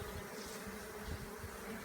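A honey bee swarm buzzes steadily and close during a hive capture, a dense continuous drone filling the whole stretch with no voices.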